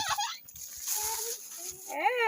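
Chickens squawk and cluck up close while being handed to a family, with brief chatter of people around them and a louder, wavering fowl call at the end.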